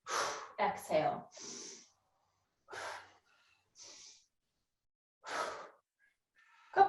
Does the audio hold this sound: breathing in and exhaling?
yes